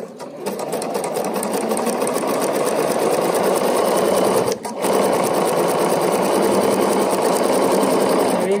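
A sewing machine couches a cord to fabric, stitching with a steady, close, continuous whir that dips briefly partway through, then resumes.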